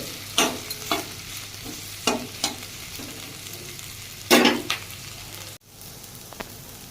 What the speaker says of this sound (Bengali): তেলগুলো তার সাথে একটু নাড়িয়ে নিলাম মাখিয়ে নেওয়ার জন্য